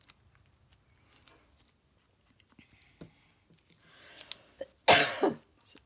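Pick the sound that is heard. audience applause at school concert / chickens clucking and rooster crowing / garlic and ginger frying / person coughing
person coughing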